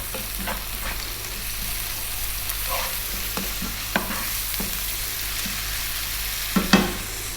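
Ginger garlic paste and salt frying in a pan for an Indian fish dish, a steady sizzle with a few sharp scrapes and clinks of stirring, no talk.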